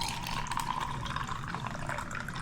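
Iced tea being poured into a glass over ice, a steady continuous liquid splash and trickle at moderate loudness throughout, close by and without talking.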